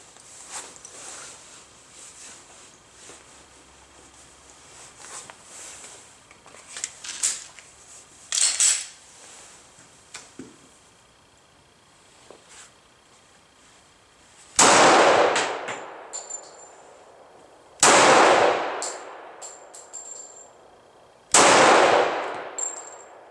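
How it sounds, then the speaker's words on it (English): A Glock 22 pistol fires three loud, sharp shots at an indoor range at 25 feet, each several seconds apart with a ringing decay, after a stretch of quieter handling clicks and distant range noise. "let me work on taking 5 slow shots at 25 feet"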